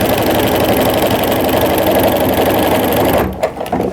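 A home sewing machine fitted with a walking foot runs steadily and loudly, quilting through a jelly roll tree skirt, its fast rhythmic stitching continuous until it slows and stops near the end.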